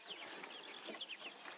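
A flock of chickens feeding in a chicken tractor on grass, with overlapping soft clucks and chirpy calls at low, even volume, heard on their own without speech.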